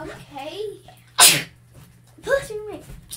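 A child gives one loud, sudden sneeze during a slime-making session indoors. Children's chatter comes just before and after it.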